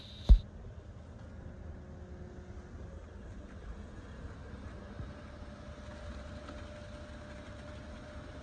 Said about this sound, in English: the concrete truck's going.